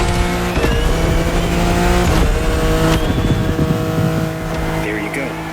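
BMW M4 Liberty Walk Edition in the racing game The Crew Motorfest, its engine droning loud and close with steady high revs, shifting pitch and brief tire squeals, fading slightly toward the end.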